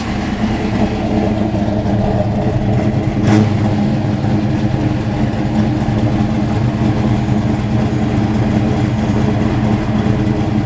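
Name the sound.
1980 Chevrolet Camaro Z28 engine running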